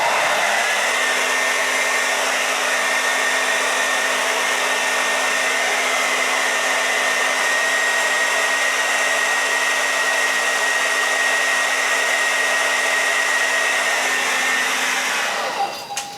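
A hair dryer on its cold setting blows steadily over a beard, a loud constant whirring rush with a faint whine that cuts off abruptly at the end, with no talking.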